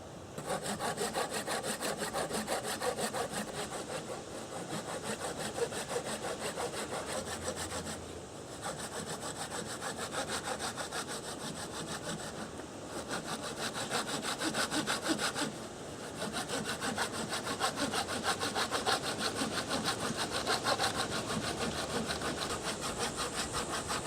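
Steady hand sawing through wood for a joint on a bushcraft canoe, a continuous rasping back-and-forth stroke rhythm held close and alone for over twenty seconds, with only brief pauses between strokes.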